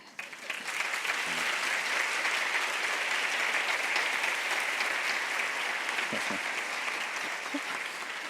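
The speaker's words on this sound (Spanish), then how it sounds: "Ha empezado a aplaudir el que se ha dado cuenta de que está estudiando lo que no quiere." A live audience applauds steadily throughout at a Spanish-language talk, a dense, sustained wash of clapping at moderate loudness, with a few faint voices underneath.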